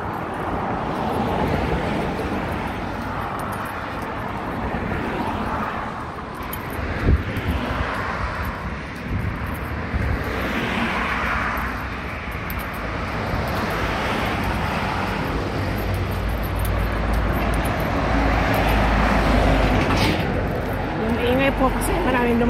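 Busy road traffic in Manila, with many vehicles passing in a steady, loud broadband rumble that swells and eases throughout, plus a brief sharp thump partway through.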